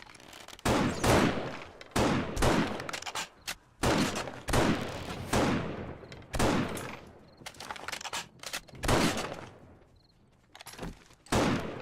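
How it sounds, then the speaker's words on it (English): Rapid bursts of gunfire from the video game 7 Days to Die during a horde night cabin defense, loud repeated volleys with short gaps, sustained across the whole stretch with no talk. "Just keep shooting anyway."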